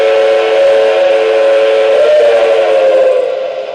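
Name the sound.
model train whistle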